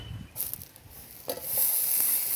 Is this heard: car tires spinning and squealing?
no